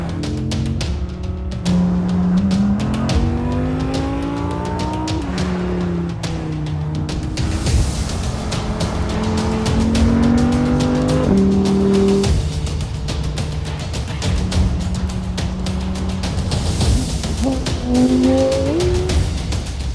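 An Audi Sport car engine revs loudly on display at the Canadian International Autoshow, with repeated rising and falling throttle blips and a whining, climbing pitch that continues for about twenty seconds with no talk.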